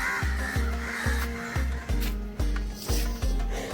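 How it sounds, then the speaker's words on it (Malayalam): Crows caw over and over on a house terrace in a steady rhythm, several harsh calls a half-second apart, fairly near and loud. "നിറയെ കാക്കകളൊക്കെ ഉണ്ട്"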